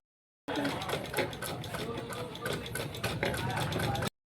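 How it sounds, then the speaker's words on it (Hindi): A sewing machine runs a steady, close-up stitch around a blouse sleeve lined with buckram. Its rapid mechanical whir continues without a break for a few seconds. "इसमें बिल्कुल नॉर्मल बकरम छोड़ते हुए चारों तरफ हमको सिलाई इस तरह से लगा देनी है"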